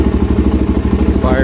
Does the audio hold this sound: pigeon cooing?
no